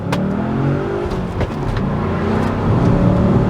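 Manual VW Passat W8 pulls hard through first, second and third gears, its engine note climbing steadily with rising pitch under continuous road and wind noise, close and loud.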